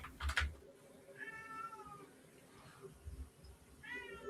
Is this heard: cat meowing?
yes